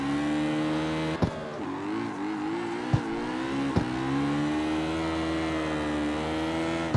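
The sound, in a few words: hot rod car engine revving in CarX Street video game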